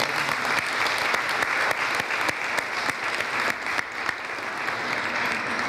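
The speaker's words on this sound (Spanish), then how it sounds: "Fuerte el aplauso también para el padre Jaime." Warm, steady applause from a church congregation for Father Jaime during a consecration service in Nacaome, continuous clapping at moderate loudness with a few sharper individual claps.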